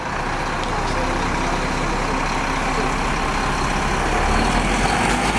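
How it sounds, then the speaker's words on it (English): Steady, loud drone of a bus engine and road rumble from inside a bus travelling in Morocco, continuous throughout with no pauses. "So I arrived by bus."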